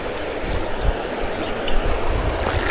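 Water current rushing through a drain freshly cleared of debris after backhoe work, a steady broadband wash with low gurgling surges, close and continuous with no voices.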